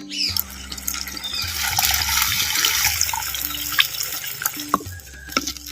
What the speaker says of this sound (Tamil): புளியம்பழத்தை இரநூறு எம்எல் தண்ணியில் இப்போ கரைச்சி சேர்த்துக்கிறேன்